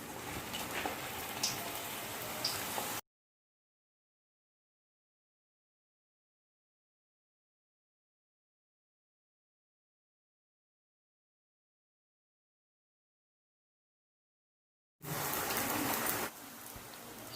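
Thattai dough hisses and sizzles in hot oil in a kadai: a dense, rain-like crackle for a few seconds, then a long dead silence, then the frying returns loud and close.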